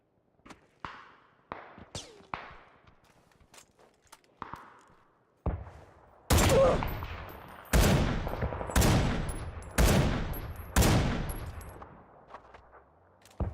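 Bursts of gunfire in the battle royale game PUBG: faint scattered shots at first, then several loud, sharp volleys with ringing tails in the second half, and no voices.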